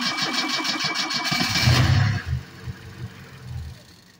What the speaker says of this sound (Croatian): Evo cold start Opela Skona